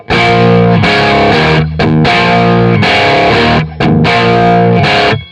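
Heavily distorted electric guitar chugs out the rhythm of a song, loud chord stabs with brief stuttering gaps before the D, played alone and slightly behind the beat.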